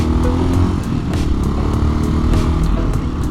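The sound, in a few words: Honda XL 500 R motorcycle engine riding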